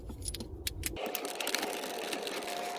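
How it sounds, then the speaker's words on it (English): A power tool removes 7mm bolts from a Chevy Cobalt dash, a brief low rumble and clicks giving way to a steady high whirring buzz of the spinning driver, close and continuous, with no talking. "All right, so I'm going to remove the two 7mm bolts."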